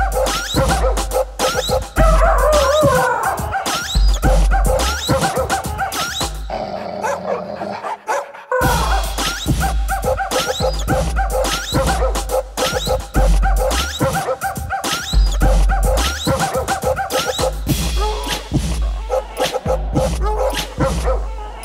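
Trained dogs at a Helmond dog-sport training club bark loudly and repeatedly in rapid overlapping volleys, close by, with yips, whimpers and growls mixed in and a brief pause partway through.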